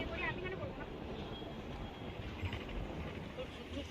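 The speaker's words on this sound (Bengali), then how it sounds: "দেখুন ওখান দিয়ে ট্রেন যাচ্ছে" A train passes at a distance near Haridwar, giving a faint, steady rolling rumble against quiet outdoor background noise.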